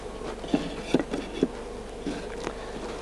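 Honey bees buzz steadily nearby, with several bees droning louder as they pass close, over a constant humming background, during transfer from a top-bar nuc to a hive.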